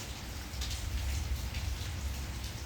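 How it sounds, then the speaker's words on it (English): Steady rain falling on surfaces outdoors at night, a soft, continuous hiss with faint patter and no voices over it. "it's raining."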